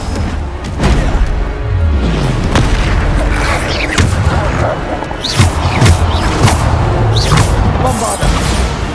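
Bombarda spell blasts in Hogwarts Legacy gameplay, a rapid barrage of loud booming explosions and crashing impacts with whooshing spell sounds, dense and close throughout, mixed with other combat effects.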